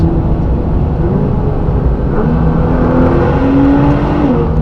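Continuous deep engine and exhaust rumble from inside a moving Nissan GT-R with exhaust valves open, steady and fairly loud, with slight shifts in pitch as it drives.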